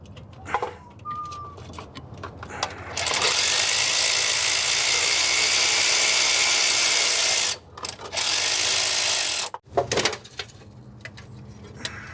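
A DeWalt battery-powered electric ratchet whirs in two sustained bursts, loud and close, between brief mechanical clicks and rattles on an old Dodge camper pickup, with no one speaking.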